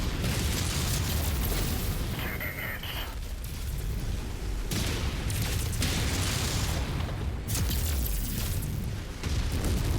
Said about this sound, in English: Oh, that was an armor explosion.